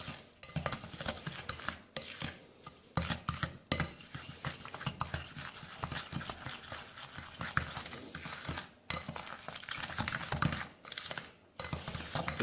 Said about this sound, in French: On va mélanger avec le sucre.